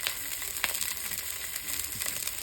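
Crumbled sausage fries steadily in a hot pan for cavatappi pasta, a dense continuous sizzle with scattered scraping clicks as the meat is broken into chunks, close and fairly loud throughout.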